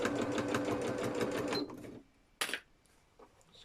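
A sewing machine stitches a zip into a hexie puff bag in one close, steady whirring run of about two seconds, then stops, followed by a brief handling click and quiet room noise.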